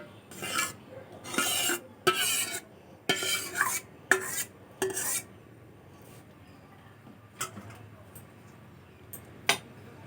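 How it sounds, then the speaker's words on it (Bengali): Mango puree is added to a wok on a gas flame and stirred, giving a series of close, sharp scraping and clattering strokes of a utensil against the pan, then sparser clicks and taps that fade toward quiet. "এখন আমি কড়াইয়ের মধ্যে আমের পিউরি"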